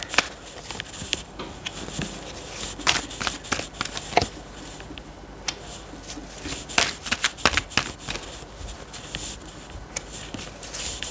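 Tarot cards shuffled by hand during a reading, soft papery riffles and flicks in irregular bursts, close and fairly quiet, with no speech.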